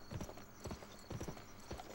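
Horse hooves clip-clop in the Western video game Gun as the rider dismounts near a lake, with four quiet, evenly spaced steps at a moderate pace.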